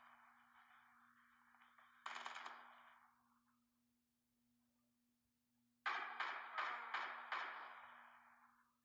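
Gunfire in Call of Duty: a sustained tone cut by one sharp shot that rings out and decays, then after a pause a rapid string of five or six loud cracks trailing off, over a faint steady hum.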